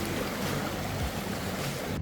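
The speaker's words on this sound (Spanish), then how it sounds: "hemos estado viendo todo el rato el estero y trae harta agua" A mountain stream carrying plenty of water rushes steadily in Cajón del Achibueno, Parque Cordillera Los Queemados, a loud, continuous broadband wash with no voices.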